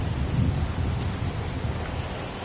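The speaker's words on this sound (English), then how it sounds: "It's pouring rain." Heavy rain pours in the video game Heavy Rain, a thick continuous hiss with deep rolling thunder rumbling low underneath, loud and steady throughout.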